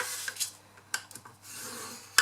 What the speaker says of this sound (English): we're going to score all the sides at 1 inch